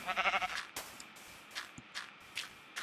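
A Minecraft sheep gives a short, wavering bleat at the start, followed by sparse soft in-game footstep taps and clicks.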